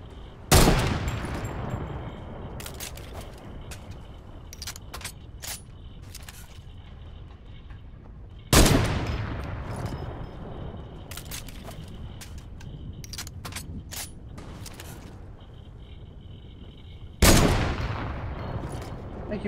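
Gunfire in the Fortnite video game, heard as three loud sharp shots spaced about eight seconds apart, each ringing out in a long decaying tail, with faint clicks and small shots between them and no talking.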